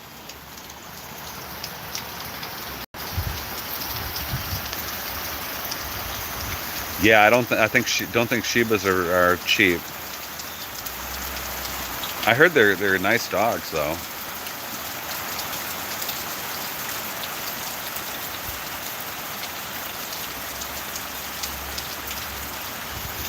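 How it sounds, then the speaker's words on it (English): Steady rain patters and hisses continuously outdoors, with two people briefly talking over it partway through. "It's raining some more."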